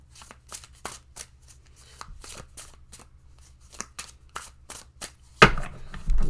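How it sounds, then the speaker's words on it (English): A tarot deck being hand shuffled, with quick repeated riffling card flicks in an uneven rhythm, close and fairly crisp, followed by a louder thump as the cards settle. "I'm doing hand shuffling."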